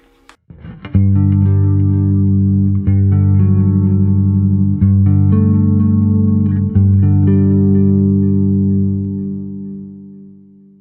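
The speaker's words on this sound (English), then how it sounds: "And last but not least, we got the delay." An electric bass plays sustained low notes with a delay effect, repeats trailing after each pluck, ringing loudly before slowly fading out.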